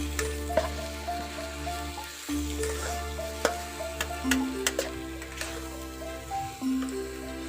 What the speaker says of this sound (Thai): ใส่พร้อมพริกเลยผัดไปให้มันหอม